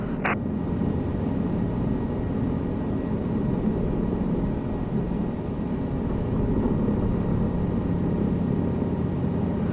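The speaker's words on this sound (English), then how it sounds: "I will give you control of the helicopter." Helicopter in Microsoft Flight Simulator 2024 flying over the Isar River, a steady low engine and rotor drone held evenly throughout after a brief short tone at the start, with no voices.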